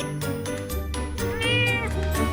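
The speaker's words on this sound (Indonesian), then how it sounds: "Kok ada kucing di sini?" A cat meows repeatedly up close, several drawn-out, pitch-sliding calls in quick succession, loud and clear with no talk over them, indoors near a handmade DIY cat house.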